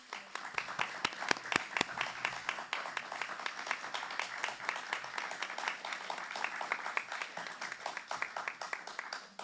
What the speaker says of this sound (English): Now's the time for us to thank them with our applause.